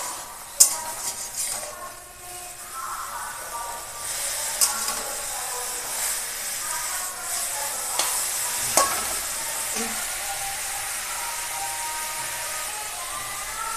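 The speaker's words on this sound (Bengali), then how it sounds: "ভালো করে ভাজবো।" Pumpkin leaves fry in a pan under a continuous sizzle while a spatula stirs them, with a few sharp scrapes and knocks against the metal scattered through.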